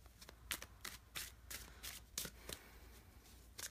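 Tarot and oracle cards shuffled by hand in quick repeated riffles, about a dozen crisp flutters in a rhythmic run, soft and close with no talking.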